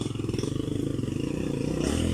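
A small motorcycle tricycle engine idles with a steady, rapid putter, close by and continuous, with faint clatter over the rumble.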